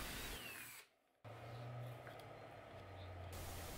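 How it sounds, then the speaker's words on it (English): Power drill boring a pilot hole in metal tubing for a homemade rock tumbler ball mill, a loud close motor whine that stops briefly and starts again, with a faint voice underneath. "we need to make a pilot hole, and then we need to drill this out for the bearing"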